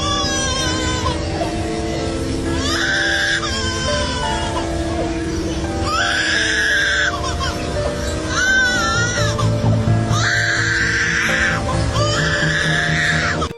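A superb lyrebird calls in repeated loud, harsh mimicking bursts, shrieks and cries separated by short gaps.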